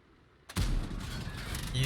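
A single heavy tank cannon shot from the TL 7 120 sniper tank in World of Tanks, a sudden loud boom followed by a sustained rumbling echo and engine drone.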